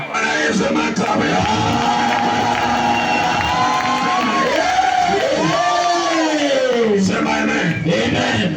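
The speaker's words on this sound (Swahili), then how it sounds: "Bwana Yesu makofi." A church congregation at a prayer service claps and cheers loudly and continuously, a dense crowd roar with shouts and whoops throughout, with voices raised over it.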